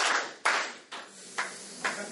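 A group gives a slow, sparse round of 'cold' applause, with about five separated clap bursts spaced roughly half a second apart, fairly close and moderately loud, and no talking.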